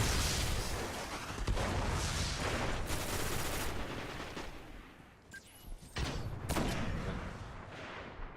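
Mida Multi-Tool exotic scout rifle in the Destiny video game, firing rapid repeated cracking shots in quick bursts at moderate loudness, with brief pauses between volleys amid game effects.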